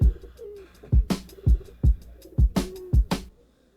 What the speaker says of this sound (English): I can hear pigeons.